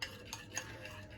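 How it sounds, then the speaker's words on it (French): A homemade paste for oily skin stirred by hand in a bowl: a few soft, faint scraping strokes at a slow, even pace, with no voices. "Bien mélanger ma pâte"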